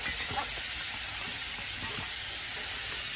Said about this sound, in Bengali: কড়াইতে তেল দিয়ে দিয়েছি